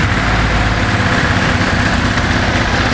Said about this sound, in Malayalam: എക്സോസ്റ്റ് നോട്ട് ചെയ്യാൻ കേൾപ്പിച്ചു തരാം